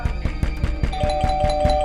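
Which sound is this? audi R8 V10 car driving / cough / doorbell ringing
doorbell ringing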